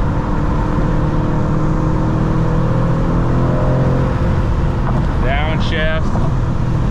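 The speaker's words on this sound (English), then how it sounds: "Downshift." A 500hp Mercedes AMG engine drones loudly in a steady roar under heavy wind buffeting, with a brief rising, falling blip of revs near the end as it downshifts.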